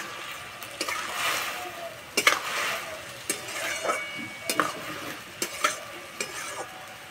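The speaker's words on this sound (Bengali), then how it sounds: "চাপাটা খুলে একটু নেড়ে দেব।" Vermicelli pulao stirred in a pan: a spoon scrapes and clinks against the metal in irregular strokes over a soft steady sizzle, close and moderately loud, with no voices.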